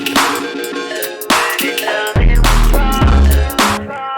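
A deep, clipped 808 bass booms in under a busy electronic beat with bright synth chords, the low end thick and saturated.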